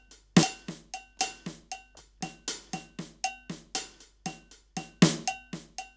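A PolyNome metronome app clicks out paradiddles in a steady run of sharp cowbell-like ticks, with every fifth note accented louder, clean and alone.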